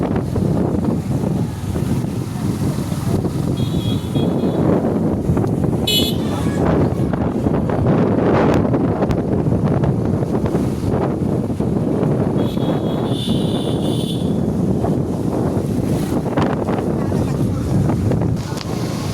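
Strong wind buffets the microphone in a constant roaring rumble, with a few faint high tones and some talk mixed in.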